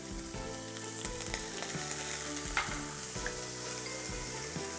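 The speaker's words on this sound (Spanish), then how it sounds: "ajo, que se dore, porque si no va a estar crudo también el ajo y la cebolla" Onion and garlic fry in plenty of olive oil for Christmas bacalao, a soft continuous sizzle under a steady low hum, with occasional faint clinks and stirring.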